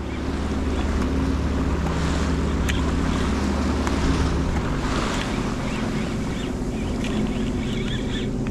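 A Sea-Doo personal watercraft runs in gear on open water, its steady engine drone blending with constant wind buffeting and splashing surf, loud and close throughout with no talking.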